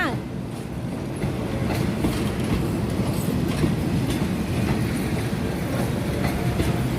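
An Alsthom 4143 diesel locomotive with a CAT engine hauls a special passenger train into Hua Lamphong station. A loud, steady rumble with rolling wheel clatter continues throughout.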